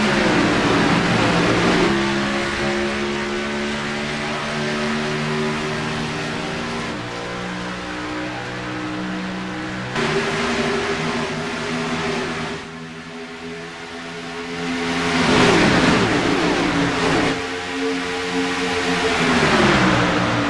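Simulated stock-car engines in iRacing at Atlanta Motor Speedway roar together as the field accelerates at a green-flag restart. The harmonic engine drone is loud and continuous, with pitch climbing and swelling through repeated gear pulls and no talk.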